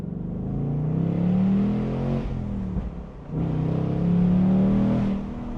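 A 2025 Ford Mustang GT engine revs hard and climbs in pitch accelerating in first gear, dips briefly at the shift to second, then roars and climbs again, loud and close.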